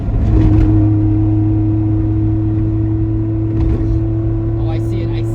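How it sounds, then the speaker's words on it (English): A 1994 Suzuki Every Joypop kei van engine drones loud and steady while driving, a constant low hum and whir filling the cabin throughout. "I'm just gonna speak loud to cover up for the engine noise"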